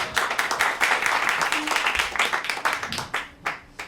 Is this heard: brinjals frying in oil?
no